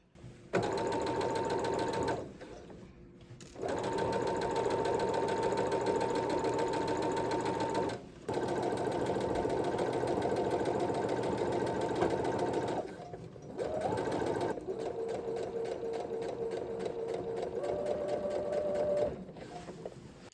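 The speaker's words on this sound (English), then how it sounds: "I'm going to get ready and sew the pants and then work on the shirt" Sewing machine stitching a pair of pants, running in long steady bursts with brief pauses between seams, close and continuous.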